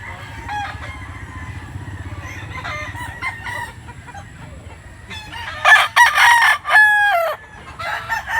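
Several fighting roosters crow in overlapping calls at a sale in Cebu, one loud and close, others farther off, over a steady low farmyard rumble and scattered clucking.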